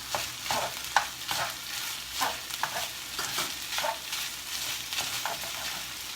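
Vegan fried rice ingredients sizzle steadily in a hot pan while a utensil stirs and scrapes in repeated strokes, close and fairly loud with no talking.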